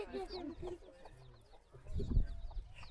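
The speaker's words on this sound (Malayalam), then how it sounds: "ഒരുപാട് കോഴികളുണ്ട്." Chickens in a coop at a regional park cluck and chatter close by in short bursts, with people talking around them and a louder rustling thump near the end.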